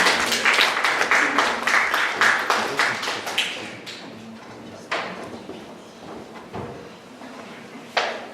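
Audience at a Korean-language speech contest for foreign students claps loudly to welcome a speaker, a dense burst that thins into scattered, fading claps with a few late isolated ones.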